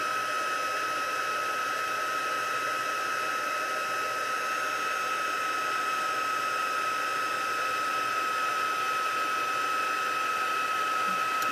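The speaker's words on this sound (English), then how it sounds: "So I've got my heat tool right here" A heat tool runs on its heat setting to melt embossing powder, giving a steady, even blowing whir with a strong tonal hum that holds constant throughout, close and alone.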